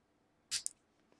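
A single quick snip of scissors cutting paper for a hanging Christmas star decoration, one sharp close cut followed by a short second clip, then quiet.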